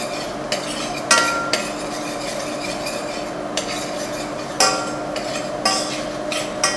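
Garlic frying gently in a pan at the start of an Asian recipe: a soft, steady sizzle of small bubbles with a utensil stirring and clinking against the pan several times, close up, no talking.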